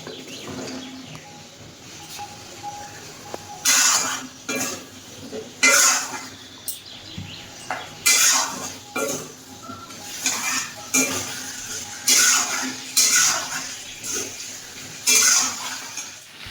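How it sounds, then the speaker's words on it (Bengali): Pieces of taro are stirred and fried in a pan with dried red chillies, with a spatula clattering against the metal in repeated bursts every second or two over a low background sizzle. "এবার আমি বাটি কচুগুলো দিয়ে কষিয়ে নেব"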